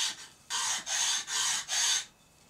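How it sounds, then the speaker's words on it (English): A steel tool edge rubbed across a sharpening stone at about 45 degrees to wear it off, four steady rasping strokes close up, each about a third of a second, in a quiet room. "we'll take the stone, roughly 45, and just wear this edge off"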